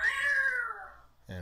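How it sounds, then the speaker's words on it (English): Cat meow sound effect played back by an ActionScript program, a single clear close meow falling in pitch, followed by a brief start of a voice at the end. "Woof, and hopefully a cat"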